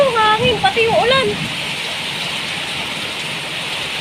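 A voice speaks briefly over a constant roar of heavy rain and strong wind, which carries on alone, loud and steady, for several seconds.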